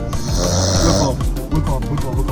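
A person snores loudly and close by in a car, giving a rough, rattling, pulsing snore that carries straight through with a short dip in the middle.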